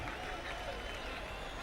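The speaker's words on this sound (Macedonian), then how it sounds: "Голем аплауз!" Applause from a crowd at a public ceremony, a dense and even wash of clapping that holds steady through the whole short stretch at a moderate distance.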